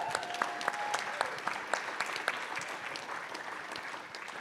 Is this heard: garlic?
no